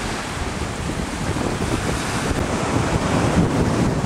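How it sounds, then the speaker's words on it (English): Ocean waves roll in on a Big Island beach in Hawaii, a steady broadband wash of surf with gusts of wind buffeting the microphone, and no voices. "Look at the waves, aren't they something?"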